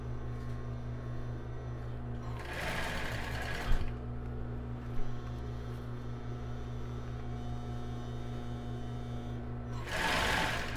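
A sewing machine backstitching elastic onto a plus-size bra, a steady low motor hum running throughout, with short bursts of brighter stitching noise near the start and again at the end.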